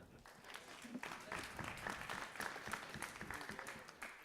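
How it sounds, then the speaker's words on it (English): Quiet, somewhat distant applause from an audience at a blockchain talk, sustained clapping with faint voices mixed in. "can we get an applause"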